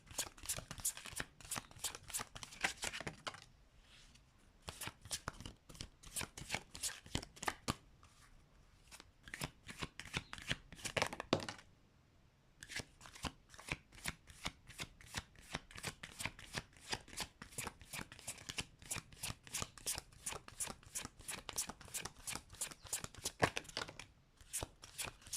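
Tarot cards shuffled by hand in long, busy riffling bursts of dense crisp flicks, with a short pause around the middle, close and steady throughout.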